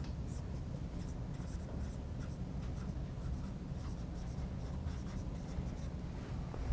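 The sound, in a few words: writing an answer on the board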